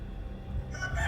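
A rooster crows at a distance, its rising call emerging in the final half second over a low rumbling background, fairly faint and alone.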